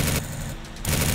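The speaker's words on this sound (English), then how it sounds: "Why is my shooting going everywhere, though?" Gunfire in the Roblox game Choo Choo Charles, a dense, loud burst of shooting that briefly drops out and then resumes, with no voices over it.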